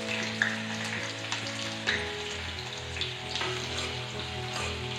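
Onions and chillies fry in a pan with a soft, continuous sizzle and light crackle, a low steady hum of a stove or fan beneath and occasional clinks.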